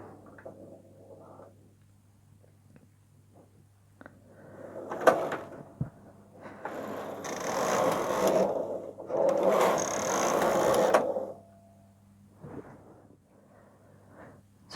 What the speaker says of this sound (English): I'm just going to pass the carriage twice